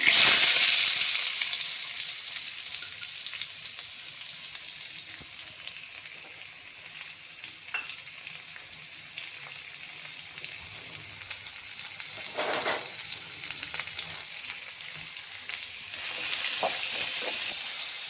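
Chopped onions frying in hot oil with popped mustard seeds for mushroom pepper dry, a steady close sizzle with occasional stirring scrapes and bursts of louder spitting, no talking.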